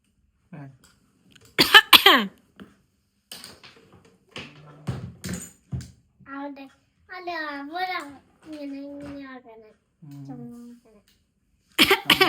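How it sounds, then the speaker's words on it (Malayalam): A child coughs in sharp bursts, a couple at the start and more at the end, with a voice talking in between. "ചുമക്കുന്നു"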